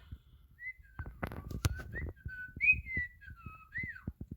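A person whistles a wandering tune of short and sliding notes, close and clear, over scattered knocks and thumps.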